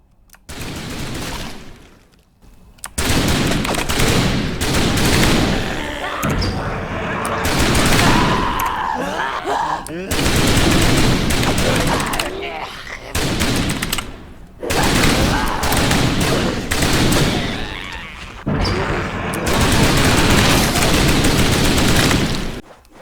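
Rapid gunfire from the House of the Dead Overkill arcade shooter, played with a Sinden light gun, comes in loud dense bursts separated by brief pauses across the whole stretch, with voices and game noise mixed in.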